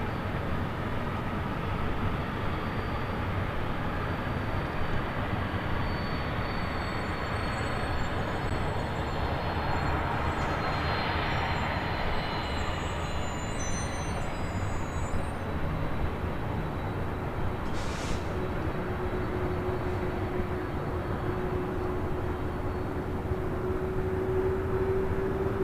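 A Delta Airlines jet takes off from runway 24 left at LAX with a broad, sustained engine roar, loud and continuous, and a rising whine joining in toward the end.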